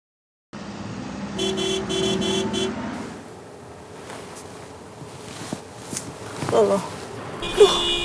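Car horns honk in a stalled traffic jam, a long blaring burst of repeated toots near the start, then engine noise and street rumble continue as people talk over it.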